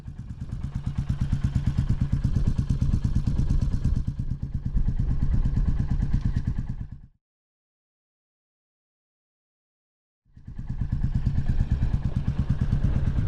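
A Royal Enfield Classic 350 single-cylinder motorcycle runs close by with a steady thumping engine pulse, then falls silent for about three seconds before the engine beat resumes.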